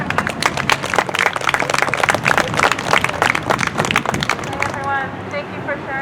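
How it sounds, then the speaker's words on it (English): A crowd applauds at an outdoor vigil in Watsonville, California, with steady, dense clapping that tapers off near the end as a voice comes in. "so a big applause for her"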